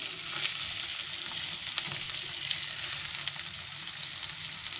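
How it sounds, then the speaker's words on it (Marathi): Whole mackerel (bangda) frying in a pan over a low gas flame, with a close, steady sizzle and scattered small pops and crackles throughout, no one speaking. "दोन बांगडे टाकले आहे. आता पहिले आहे ना हे मी असे फिरवून घेते."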